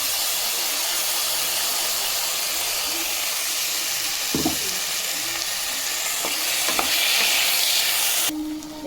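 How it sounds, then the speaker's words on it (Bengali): Ginger, cumin, tomato and green chili paste sizzles and hisses steadily in a hot pan while a lentil fritter curry is being cooked, with brief stirring clinks partway through. "আর এবার আদা জিরে টমেটো কাঁচা লঙ্কা যে বাটাটা ছিল এটা দিয়ে দিচ্ছি।"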